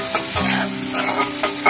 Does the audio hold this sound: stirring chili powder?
yes